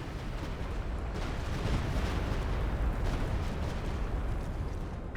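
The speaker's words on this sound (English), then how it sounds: "firing a barrage" Artillery barrage in the strategy video game Company of Heroes 2, a dense continuous rumble of overlapping distant explosions and booms, steady and fairly low in level with no distinct single blasts.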